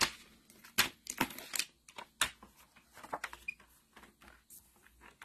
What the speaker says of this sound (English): Let's trim it at 5 1/4 by 4.